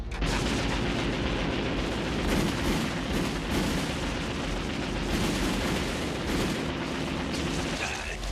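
Heavy weapons fire in an anime battle, a dense, continuous roar of gunshots and booming blasts that barely lets up, with shouting voices mixed in.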